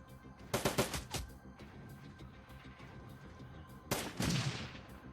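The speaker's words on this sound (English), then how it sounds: "Oh, there's a turret" Turret gunfire in Shadowrun: Dragonfall comes as two loud bursts of rapid shots, the first cluster at the start and another later, with a steady low hum in between.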